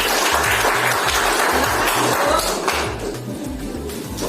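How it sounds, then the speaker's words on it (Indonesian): A burst of brisk group clapping from a class of students in a classroom, in an even rhythm, loud and close, tapering off toward the end. "tepuk tangan untuk kalian"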